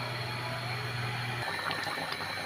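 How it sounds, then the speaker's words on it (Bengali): Water poured into a cooking pot of potato, pointed gourd and egg curry, a steady broadband splash and gurgle filling the pot for a couple of seconds, close by with no talking. "দেখুন পানিটা দিয়ে দিলাম"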